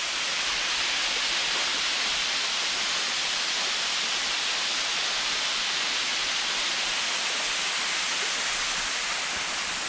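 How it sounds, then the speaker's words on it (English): Steady roar of a waterfall at Cliffview Falls in Ontario, water pouring heavily over rock in a constant full-band rush that stays loud and unbroken throughout, with no voices. "And more water coming down than I thought we were going to see."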